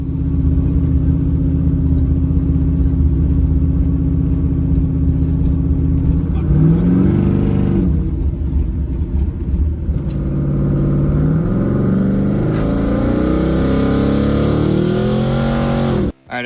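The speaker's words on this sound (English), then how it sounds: "Now I just have to go take the car out for a test drive and see what it makes for boost" A turbocharged car on a test drive, recorded from inside: a steady engine drone climbs in pitch through several gear pulls, loud and continuous, before it abruptly cuts out.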